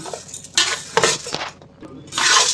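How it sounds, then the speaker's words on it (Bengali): Whole boiled dal being fried in a pan, stirred with a metal utensil that clinks and scrapes in short bursts, with a soft sizzle underneath. "এখানে কালকে গোটা সেদ্ধ ডালটা ভেজে নিচ্ছি"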